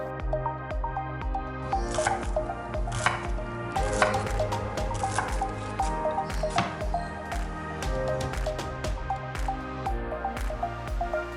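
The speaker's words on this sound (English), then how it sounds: "Now we want to go in with some shallots. Okay, so this just needs to be roughly chopped." Shallots are roughly chopped with a knife on a board, rapid crisp thuds in an uneven rhythm heard up close over faint background music.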